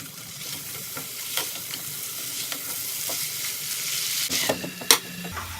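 Dry masala chicken with kasuri methi is being stirred in a hot pan, giving a steady sizzle and frying crackle with repeated scrapes and knocks of the spoon, louder toward the end, with no talking.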